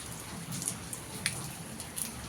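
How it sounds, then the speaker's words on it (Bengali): Light rain falling outdoors during an all-day downpour, soft scattered drips and patters over a faint steady hiss, fairly quiet and close, with no one talking. "একদম রাত থেকে সারাদিন বৃষ্টি হচ্ছে"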